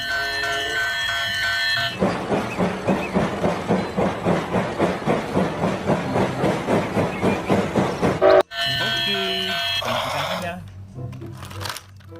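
A small battery-powered toy train clatters along in a steady, rapid rhythm with a whirring motor, then stops abruptly before a quieter electronic tune plays.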